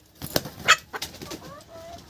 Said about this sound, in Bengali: এগুলো সব তো দেশি মুরগি।